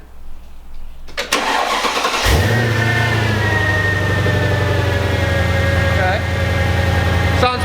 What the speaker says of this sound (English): The car is all together, ready for the first start.